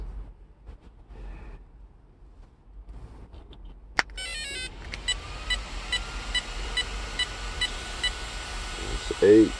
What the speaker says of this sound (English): I want you guys to hear the beeps.